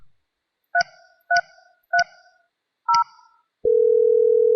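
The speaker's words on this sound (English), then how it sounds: "Dial the warehouse phone number" A Mitel 5340 IP phone dialing a direct page to a warehouse extension plays four crisp, evenly spaced keypad tones, then a steady continuous tone starts and holds to the end, loud and clear with no voices.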